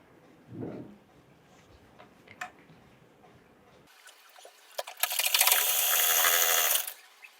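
A sewing machine runs a stitch around the rounded hip seam of an umbrella-cut jumpsuit. A steady, fairly loud whirring burst lasts about two seconds after quieter handling noises.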